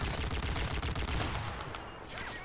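Gunfire from a Barrett sniper rifle in Modern Warfare 3 rattles in dense, overlapping bursts. The shots are loud and continuous throughout and fade slightly toward the end.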